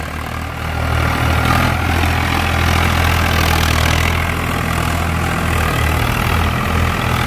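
A 1996-model Swaraj tractor fitted with a truck clutch plate runs under heavy load, its loud diesel engine throbbing in a deep steady drone that swells after the first second and holds close throughout.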